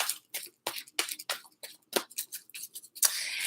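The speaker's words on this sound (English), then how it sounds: "first I'm going to shuffle with the angel deck" A deck of angel cards is shuffled close up, giving crisp, rapid riffling snaps in irregular bursts that end in a longer flutter.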